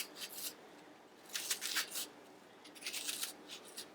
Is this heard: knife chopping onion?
yes